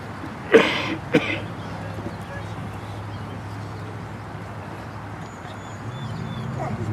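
A dog gives two short, sharp barks close by at an outdoor war dog memorial ceremony for K9 veterans, followed by steady ambient crowd noise.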